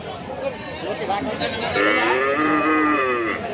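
Several cattle, mostly native with some mixed-breed beef cattle, moo loudly in long, overlapping bellows over a busy background murmur of the crowded outdoor Hazratpur livestock market.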